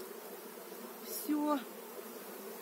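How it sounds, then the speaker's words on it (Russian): Carpathian honey bees hum in a low, steady drone close by at an open hive entrance, with a brief louder buzz as one passes near, under a short spoken word. "Вот они принюхиваются, пчелки все живые, хорошие, здоровые. Это карпатка."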